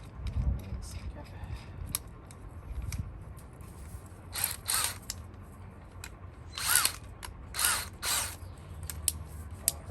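A dryer duct connection being tightened behind a wall: a handful of short, close ratcheting bursts of a tool, spaced a second or two apart over a low background rumble, with no talking.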